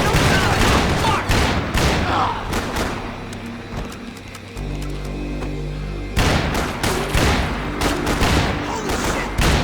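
Bursts of rapid automatic gunfire and heavy booming shots in the video game Max Payne 3, loud and dense at the start and end with a quieter rumbling lull in between, with shouted voices among the shooting.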